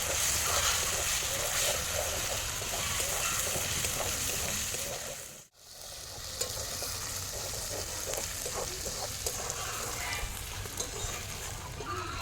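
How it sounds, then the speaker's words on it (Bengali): Spice paste and tomatoes frying in a pan for aloo dum, a dense continuous sizzle with soft stirring scrapes throughout, close by; the sizzle drops away for a moment midway, then resumes just as strong. "এরপরে মশলাটাকে আমি ভালো করে নেড়ে নেব"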